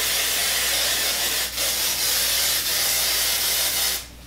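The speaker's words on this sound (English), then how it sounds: "Oh, more hairspray." Hairspray hisses from an aerosol can onto hair in long, loud, close bursts with brief pauses, then stops abruptly at the end.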